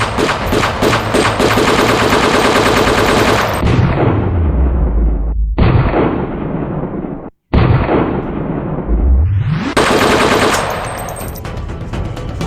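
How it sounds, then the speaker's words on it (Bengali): Heavy gunfire in a played film scene: loud rapid bursts of automatic fire, then a falling roar and a sudden cutoff before more shooting resumes, with no talk heard over it. "নিচে গুলি কর প্যান্টে গুলি কর"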